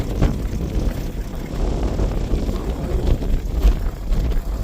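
Strong wind buffets the microphone outdoors in rural Montana, producing a continuous low rumble with gusty swells and no voices.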